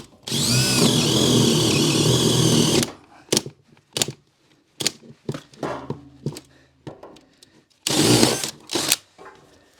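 A power drill whirs steadily for about three seconds into a floor, then stops, followed by scattered clunks and handling noises and a second brief burst of drilling.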